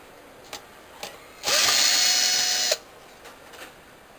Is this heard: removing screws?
yes